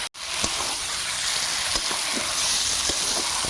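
Duck meat frying and being stirred in a pan for an Indian home-style curry, a steady loud sizzle with scattered spatula scrapes and knocks throughout, no voices.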